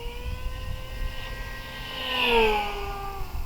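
An Eflite V900 RC plane at full throttle makes a high, steady whine that rises and swells as it passes close, then falls away, alone over faint background noise.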